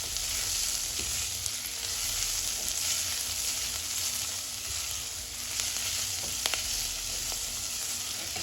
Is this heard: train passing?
no